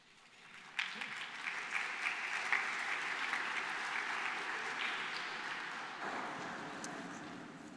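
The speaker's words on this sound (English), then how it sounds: "You're very kind, but I don't need applause." A church congregation applauds during a Mass for the Solemnity of the Epiphany, sustained clapping that starts abruptly, holds steady for several seconds and tapers slightly near the end, with no talking over it.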